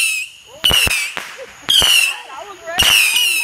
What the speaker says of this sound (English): All the Roman candles lit.